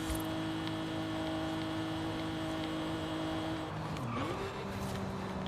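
Twin-turbo all-wheel-drive Mitsubishi GTO with a cam, driven in Forza Horizon 5, holding a steady droning engine note with a brief shift or pitch dip near the end, up close and loud with no talk.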